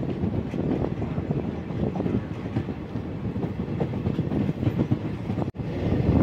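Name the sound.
train running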